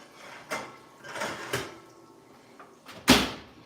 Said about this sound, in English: I'm actually going to put this back in the oven.